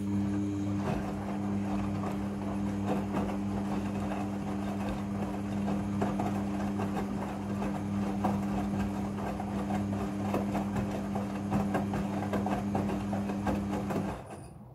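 A Midea front-loading washing machine runs its second rinse cycle with a steady, rumbling motor drone and faint swishing. The sound holds at an even level throughout and drops off at the very end, with no speech.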